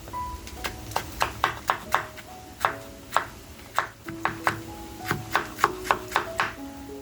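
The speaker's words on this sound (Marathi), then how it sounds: "टॅमॅटो घेतलाय, तो सुद्धा आपल्याला अगदी बारीक कापून घ्यायचा आहे." A knife finely chops a tomato on a board, giving about twenty crisp, close taps in a steady, slightly uneven rhythm with brief pauses between.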